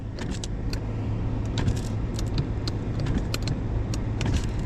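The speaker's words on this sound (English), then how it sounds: "You can hear the windows are trying to open, but they can't because it's frozen." Frozen car power windows strain against ice in cold winter weather, making a steady low motor hum with scattered sharp clicks and ticks.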